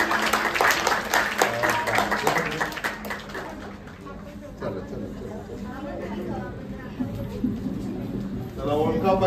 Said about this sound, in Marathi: अभिनंदन. टाळ्या जोरदार.